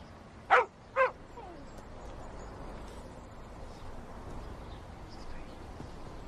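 A dog gives two short, sharp yips close together near the start, then only quiet room ambience with faint background noise follows.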